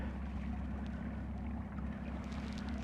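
A Pond Prowler boat in stock form runs at full throttle on open water, its steady motor drone continuous and fairly quiet throughout, with wind buffeting the microphone.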